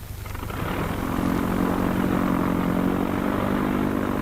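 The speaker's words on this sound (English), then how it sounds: "One by one, the planes take off." 1942 Indian Air Force propeller training planes taking off, a loud engine drone swelling as it nears and holding as a steady roar with no voices.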